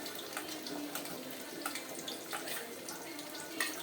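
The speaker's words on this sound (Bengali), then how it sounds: "নিচু করে আস্তে আস্তে ঢেলে দাও, একদম আস্তে আস্তে" Liquid is poured slowly and low into a pan while chicken cooks, making a soft, steady trickle that runs continuously at a fairly quiet level.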